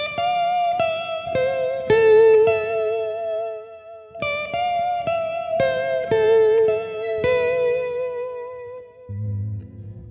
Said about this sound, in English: So this is Univibe after the reverb.